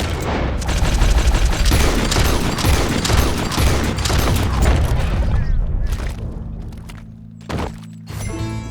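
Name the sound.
gunfire in the video game Red Dead Redemption 2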